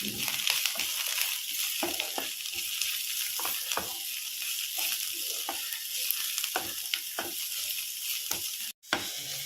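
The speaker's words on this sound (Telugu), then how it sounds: "కొత్తిమీర వేగుతున్నప్పుడే చింతపండు కూడా వేసేసుకున్నాం" Coriander leaves and tamarind fry in hot oil in a pan for a pickle, giving a steady, dense sizzle with scattered crackles and stirring scrapes. It runs close and continuous, with a brief break near the end and no talking.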